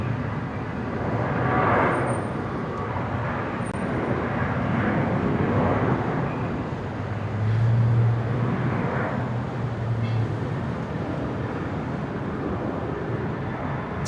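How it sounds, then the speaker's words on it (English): A Boeing 787 Dreamliner departs toward Tokyo from Brisbane International, a broad, steady jet roar that swells and fades gently at a distance for about fourteen seconds, with no voices. "The Dreamliner heading to Tokyo."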